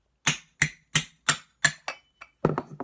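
A hammer drives a nail into a tin can, sharp metallic taps in an even rhythm of about six strikes, followed by a few quicker, more scattered knocks, close and clear.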